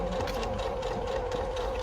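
A sewing machine runs steadily while stitching a coin purse, giving a continuous mechanical hum with a fast, even whir that holds throughout without any talking.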